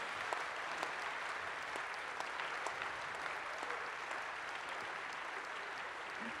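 Audience clapping for politicians at a French political plenary session, a sustained, even applause from a sizable hall with scattered sharper claps standing out over the steady rhythm.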